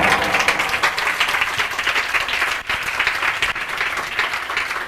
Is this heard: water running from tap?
no